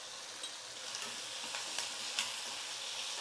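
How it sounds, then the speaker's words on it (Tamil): Garlic, onion, tomato and dried red chillies sauté in a pan for sambar, giving a steady soft sizzle with faint stirring scrapes, no voices. "பூண்டு வெங்காயம் தக்காளி வரமிளகாய் எல்லாமே நல்லா வதங்கிடுச்சு"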